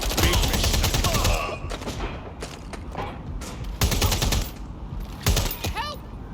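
Rapid bursts of gunfire in the video game Watch Dogs Legion, crackling in quick volleys with a few louder shots standing out, while in-game voices shout over the shooting.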